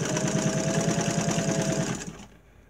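A Singer 191J sewing machine stitching leather runs loud and close with a fast, steady mechanical whir and rapid needle chatter for about two seconds, then winds down and stops.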